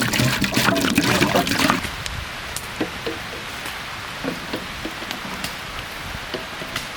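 Water poured into a pan for egg tawa masala, a loud close splashing pour lasting under two seconds that stops abruptly, followed by a quiet background scattered with light drips and taps.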